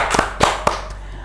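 A short round of applause for a guest called Mister Puisi on an Indonesian talk show about the vice-presidential debate: a few loud, sharp claps close together, ending within about a second.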